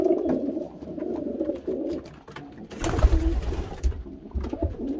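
Pigeons in a breeding loft give repeated soft, low cooing calls close by. A brief burst of rustling or wing flutter comes midway.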